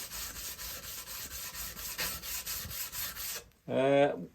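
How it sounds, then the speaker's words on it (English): Hand-sanding a bushcraft knife blade with cutting fluid produces steady, rhythmic rubbing strokes, close and even, followed by a short voiced sound at the end. "just a little bit of cutting fluid on there. It's just a matter of rubbing away."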